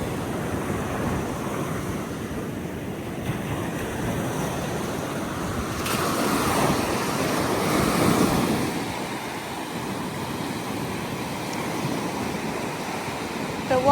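Rough surf rolls in on Navarre Beach with a continuous, roaring wash and wind buffeting the microphone, swelling louder midway before settling back into a steady rumble.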